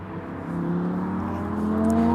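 Road traffic passing on the nearby A1 beside the River Tyne at Blaydon, a steady engine whir rising as a vehicle accelerates past, moderately loud with no voices.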